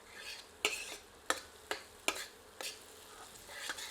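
Squash curry with tomatoes and spices frying in a pan over medium heat, with a soft continuous sizzle broken by several sharp stirring clacks of a spoon against the pan at irregular intervals.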